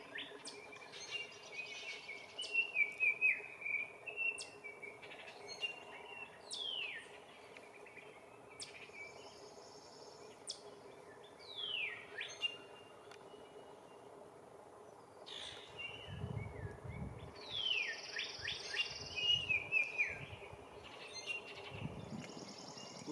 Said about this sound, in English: You might be able to hear a cardinal and an oriole singing in the background.